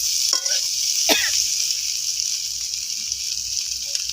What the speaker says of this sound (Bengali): আমি এখানে কপিটা পনির দিয়ে রান্না করছি